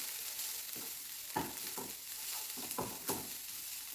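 Onions sweating over lowered heat in a pan, a soft steady sizzle broken by several quick scraping stirs at a gentle rhythm.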